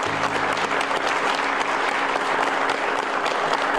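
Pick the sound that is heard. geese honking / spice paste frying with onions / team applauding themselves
team applauding themselves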